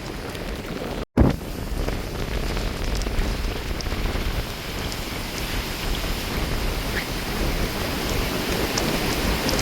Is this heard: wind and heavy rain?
yes